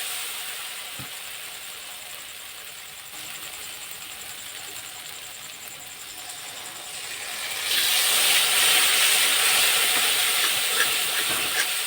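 Water poured into spice paste frying for a mrigal fish curry sets off a sudden loud, steady hissing sizzle that swells partway through, following a quieter stretch of low frying noise.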